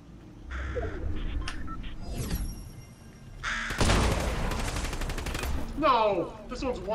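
Gunfire in a squads battle-royale shooter match, with bursts of shots and sharp impacts over busy game noise, fairly loud and close, with a voice talking at times.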